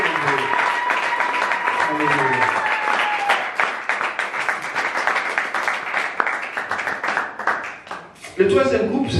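A church congregation breaks into sustained, dense applause that carries on steadily for several seconds, with a voice speaking over the start and again near the end.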